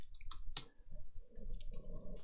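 Rapid keyboard typing, a string of sharp, close clicks in quick irregular bursts with short pauses, heard alone over a low steady background hum.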